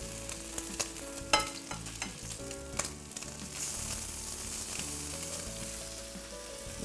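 Turkey bacon sizzles in a frying pan with a soft, steady crackle. A few clicks and scrapes from a turner come early, then the frying hiss thickens and carries on alone.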